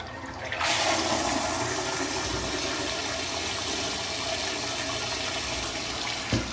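An electronic bidet toilet flushes with a sudden strong rush of water that keeps gushing steadily, then ends with a small clunk.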